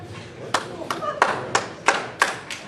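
Applause of a few people at a city council meeting during a budget debate, coming as a run of separate sharp claps in a loose rhythm, fairly close and moderately loud, over a murmuring room.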